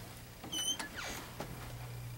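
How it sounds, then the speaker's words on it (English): A door is opened on the way outside to a pet crow enclosure, giving a short creaking, squeaking mechanism sound with a few clicks and rattles, close by and without talk. "I open the door"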